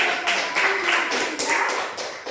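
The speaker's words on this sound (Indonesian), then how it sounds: "tepuk tangan untuk kita semua" A class of schoolchildren claps together in a classroom during a teacher-training lesson at Universitas Bengkulu, a quick rhythmic burst of hand claps lasting a couple of seconds.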